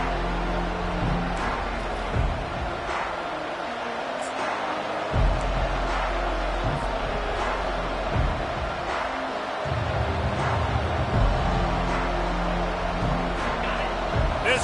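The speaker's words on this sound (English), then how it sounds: "This crowd trying to make life miserable for this offense." A football stadium crowd roars loudly and steadily, a dense wash of cheering and noise that swells in places, with an announcer talking over it.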